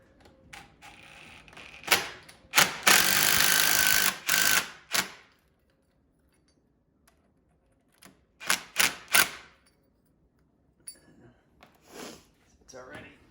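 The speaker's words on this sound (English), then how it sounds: "This is an impact drill. Very easy to over tighten with these." Impact drill driving screws into an arched brick fireplace for a fire screen, giving a sustained hammering burst of about two seconds plus several short rattling bursts, close and loud, with a voice talking between them.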